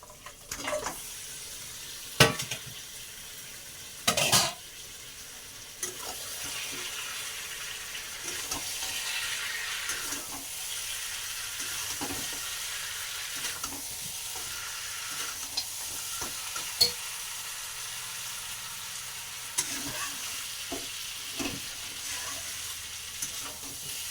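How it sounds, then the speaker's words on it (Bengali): Pre-boiled mutton is sautéed in a pan, with a constant sizzle under repeated scraping stirs and a few louder knocks near the start, close and without voices. "তো চলো তাহলে আমি এখন কষাতে থাকি।"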